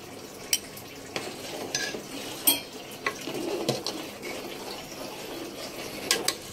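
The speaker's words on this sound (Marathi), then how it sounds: "हे आता चांगलं ढवळायचंय आपण" Mangalorean-style payasam with jaggery being stirred in a pot, a spoon clinking and scraping against metal in irregular strokes over a soft liquid bubbling, no voices.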